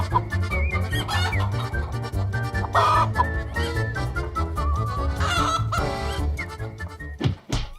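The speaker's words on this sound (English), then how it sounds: "and I fed it to my chickens." Chickens eat leftover food, with honking, clucking fowl calls scattered throughout over a steady, music-like low background.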